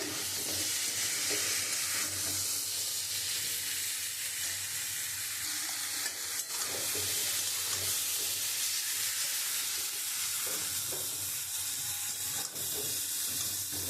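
Ground spice paste fries in hot oil in a pan with a continuous bright sizzle, overlaid by repeated scraping strokes of a spatula for a boal fish curry with potato and aubergine, and no voices.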